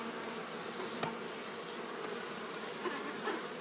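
Honey bees swarm and buzz around an opened hive during feeder rim removal, a steady dense drone that holds close and unbroken throughout with a few brief louder bumps.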